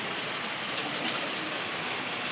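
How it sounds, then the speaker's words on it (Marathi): Steady rain pours onto a roof in a dense, continuous hiss, close and even throughout with no voices or thunder. "दिसायला की नाही तुम्हाला पाऊस बघा आता दिसते"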